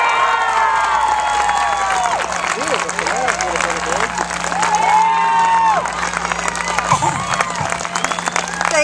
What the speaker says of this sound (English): Please welcome a big Tea Party round of applause for Sharron Angle.